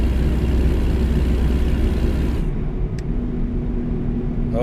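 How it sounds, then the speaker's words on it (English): A heavily loaded truck in American Truck Simulator rumbles with a deep, steady engine drone, which abruptly thins to a lower, quieter growl midway as the engine brake engages. "I want to test this engine brake."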